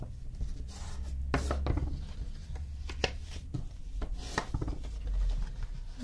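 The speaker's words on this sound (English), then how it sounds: "fold down your score lines all the way along and give them a wee burnish" Folded score lines on a paper gift bag are burnished with soft, close rubbing and scraping strokes, each followed by light taps and the rustle of paper.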